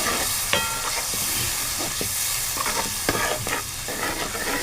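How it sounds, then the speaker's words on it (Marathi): Masala paste being stirred in a cooking pan while preparing a monsoon wild-vegetable dish, with steady sizzling and frying and repeated sharp scraping knocks of the spoon against the pan, close and continuous. "आपण आता ढवळूया."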